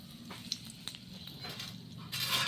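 A bay leaf hits hot mustard oil in a village kitchen while cooking a maan kochu ghonto, giving a close, steady crackling sizzle that swells louder toward the end, with no one talking.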